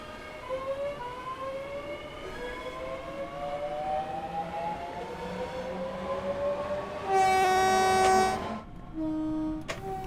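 A Class 465 Networker electric train on the Southeastern High Speed line runs steadily, its traction motors whining in rising tones, then a loud horn blares for about a second, followed by a shorter second blast.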